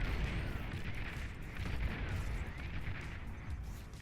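Artillery fire in the real-time strategy game Beyond All Reason, a faint, steady rumble of distant shelling with muffled booms blending into a continuous low roar.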